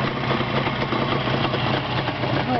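Engine running steadily on a small test stand, a close, even mechanical drone with constant rattling vibration and no change in speed.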